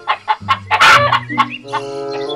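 A chicken clucks loudly and close by, a quick series of sharp clucks rising into a longer, drawn-out call, with no talking.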